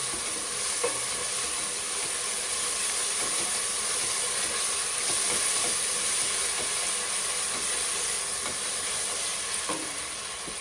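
Goat intestine (boti) frying with freshly pounded ginger garlic paste for a Telangana-style fry: a loud, continuous close sizzle with faint stirring scrapes running through it, no speech.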